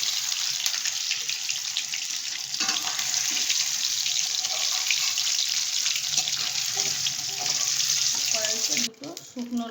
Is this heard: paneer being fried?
yes